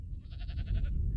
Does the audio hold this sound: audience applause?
no